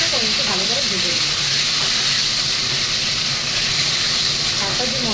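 Bay leaves torn into pieces fry in a pan with a steady hiss and sizzle that lasts the whole stretch, loud and close, while a voice talks over it throughout.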